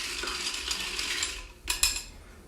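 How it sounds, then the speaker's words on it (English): An orange cocktail is stirred in a glass with a metal utensil. Soft, rapid clinking and scraping run for a couple of seconds and end in two sharper taps against the glass, with no talking. "We're gonna give that a stir."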